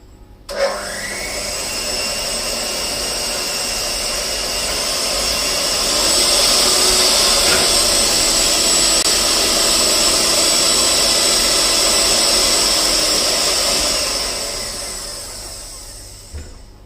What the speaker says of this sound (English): I wanted to turn the mixer off and it went faster